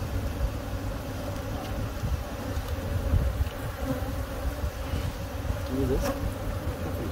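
Honeybees swarm and buzz constantly, close and loud, as their nest is removed from a fallen tree, with a faint motor drone beneath the insect hum.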